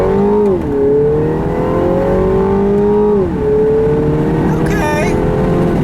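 A 2017 Mini Cooper S Clubman All4 in manual mode accelerates hard along a straight road, its engine note climbing steadily through the revs with a couple of gear changes, heard loud from inside the cabin.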